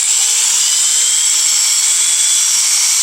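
A high-pitched power tool whines steadily and loudly, a rotary sander spinning against a BMW headlight lens, with no voices.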